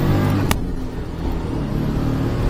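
A Daihatsu Atrai XX intercooled turbo mini-truck engine pulls hard under acceleration on the highway, a loud, steady in-cabin drone and rumble with a short click early on and no talk over it.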